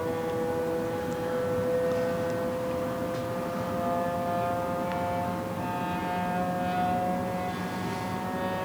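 A Bambu P1P 3D printer running during setup gives a loud, continuous mechanical whine with layered rising tones, like a jet engine spooling up, steady throughout without pauses.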